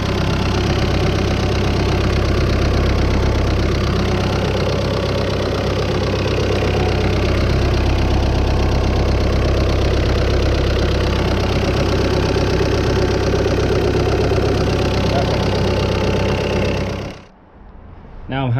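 An Audi A1 diesel engine idles close by with a steady low rumble and clatter, running evenly for a long stretch before abruptly cutting off near the end.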